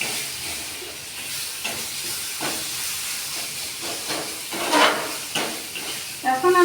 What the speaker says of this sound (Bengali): টমেটো সস দেওয়ার পর আমি এটা একটু নাড়তে থাকলাম